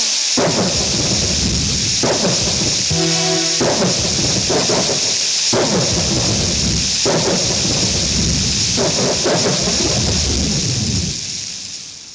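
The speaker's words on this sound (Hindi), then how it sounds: "उसी समय जोर से बारिश होने लगी, आंधी तूफान चलने लगा।" Heavy rain pours down in a loud, continuous hiss while thunder rolls and rumbles repeatedly through a violent storm, with no voices.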